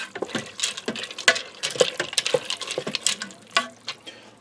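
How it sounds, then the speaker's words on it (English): Beef and macaroni soup being stirred in a pressure cooker, with close, busy wet sloshing and scraping taps of the spoon against the pot arriving in an irregular rhythm, moderately loud and without talk. "I'm going to give that a stir."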